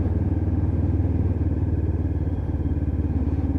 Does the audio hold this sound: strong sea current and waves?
no